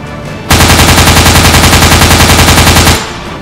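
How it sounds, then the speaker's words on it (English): A loud, sustained burst of rapid automatic gunfire from a gun test, about two and a half seconds of evenly spaced, machine-gun-like shots with no talk over it. "Gun test, check this out."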